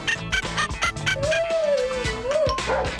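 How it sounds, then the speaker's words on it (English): Interactive Poochie toy robot dogs yipping in quick electronic barks, then one voice sliding into a wavering synthetic howl-like song over continued yapping, loud and close with no talk. "New Poochie reacts to packs, sounds, and light. What's the matter, fella? Just begging for his bone! And listen to him sing to each other!"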